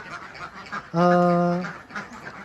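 A laying duck on a village duck farm gives one loud, drawn-out nasal quack close by, set against quieter background chatter and farmyard murmur.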